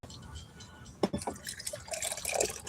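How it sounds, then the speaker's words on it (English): Cold coffee poured out into a sink, a short liquid splash and trickle that starts after a quiet pause and runs on fairly faintly, with people talking softly around it. "I had to pour some of my cold coffee out"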